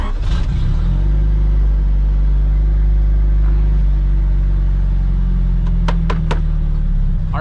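A turbocharged Honda CRX engine idling loud and close with a steady low rumble, a few sharp clicks near the end.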